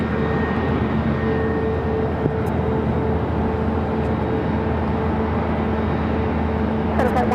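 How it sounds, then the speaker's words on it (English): A heavy Amazon Air Boeing 767-300ER freighter powers up for takeoff at Phoenix airport, a loud sustained jet roar with a steady tonal whine running throughout, brief clicks near the end. "Also have a heavy lighting up Amazon Air Prime Air flight 3387, heading to Wilmington, North Carolina"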